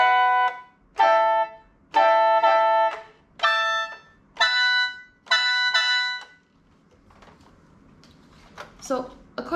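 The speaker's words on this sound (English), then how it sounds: "this is what we call the grace note or acciaccatura." An instrument plays a series of bright, plucked-sounding notes, each led by a quick grace note (acciaccatura, Da Yin), in short separated bursts, then falls quiet before a voice briefly speaks.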